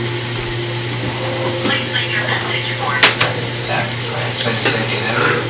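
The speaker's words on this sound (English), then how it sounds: "and now we're searing it" Pork chops sear in a pan with a constant broad sizzle over a low hum, punctuated by a few clinks and scrapes near the middle.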